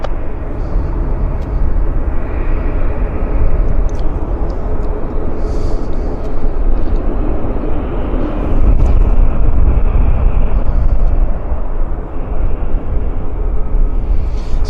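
An airliner lands on runway 08 right at Vancouver airport, a loud, steady low roar and rumble of the engines holding throughout and swelling slightly partway through, with no one speaking.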